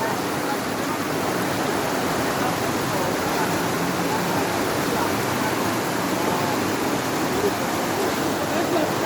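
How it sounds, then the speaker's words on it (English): Floodwater rushes across a main road in Jamaica, a dense, continuous roar of moving water that stays loud and even throughout. "Look where water come through."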